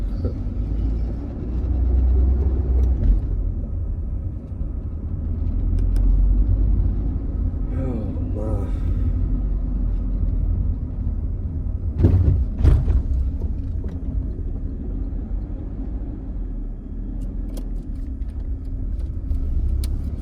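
Steady low rumble of a car engine and road noise from inside the moving vehicle, continuous throughout, with a few brief louder knocks and faint voice-like sounds partway through.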